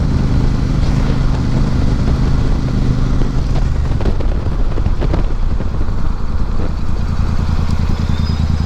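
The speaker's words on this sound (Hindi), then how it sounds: "बाइक को चलाऊंगा मैं 80 की स्पीड पे," A Royal Enfield Super Meteor 650 cruiser motorcycle rides at about 80 km/h, its engine a loud, steady drone with wind rush and a low, rumbling exhaust throughout, close to the rider.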